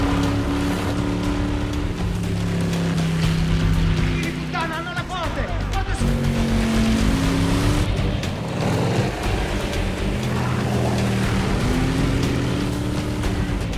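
Several powerful motorboat engines roar and whine close by in Venice, shifting pitch as they speed across the water in a chase, with voices faintly mixed in.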